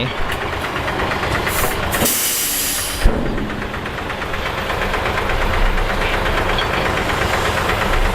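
A Hino A09C diesel truck engine of about 8,900 cc runs loudly and continuously close up, with a steady mechanical drone and hiss and a brief sharp knock partway through.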